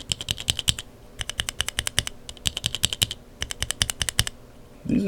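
Rapid bursts of keystrokes on a keyboard fitted with Kailh Burgundy stem switches, crisp clacky presses in quick runs with short pauses between, close and clear with no talking.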